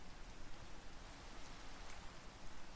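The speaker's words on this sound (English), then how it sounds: "it's because it's raining" Steady rain hisses without a break in a Minecraft game, a dense wash of fine, even noise with no voices over it.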